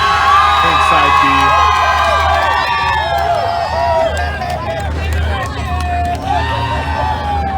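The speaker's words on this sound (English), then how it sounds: "choose the side you thought screamed the loudest" A crowd at a Halloween event screams and whoops loudly in a shouting contest, many voices rising and falling together in a sustained, dense roar of cheering and yelling.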